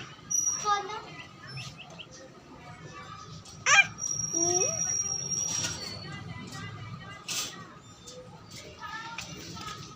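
Baby chicks brought home in a city house, their high chirps and peeps scattered through the scene, fairly close, mixed with children's voices and adults talking.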